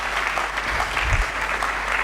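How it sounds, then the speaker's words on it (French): A church congregation applauds steadily throughout at a Sunday sermon service, a dense, continuous wash of clapping with no break. "Acclamons très fort."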